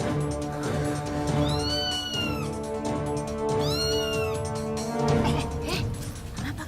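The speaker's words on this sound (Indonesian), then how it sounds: "kenapa suaranya seperti suara kucing" A cat meows twice, long drawn-out cries over a busy, constant background of music and noise.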